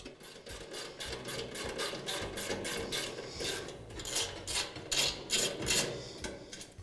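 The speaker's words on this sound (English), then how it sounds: "Now remove the screws that secure the burners to the back of the grill box." Burner screws are removed from a Weber gas grill, with a rhythmic series of close metallic ratcheting and scraping clicks from a hand tool working steadily throughout.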